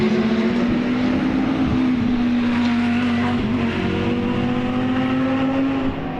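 BMW GT3 race cars lap Autodrom Most during a GT Cup endurance race, a steady, droning engine note held at high revs with slight pitch shifts as the cars pass, loud and continuous.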